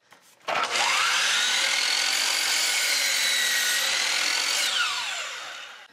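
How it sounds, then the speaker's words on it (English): A miter saw run at full speed through a KB Electronics speed controller spins up with a sharp whine, holds a loud steady high-pitched motor drone for about four seconds, then winds down, close and alone. "KB Electronics speed controller to control my miter saw. All right, test one, turn it all the way up. We should have full power and speed."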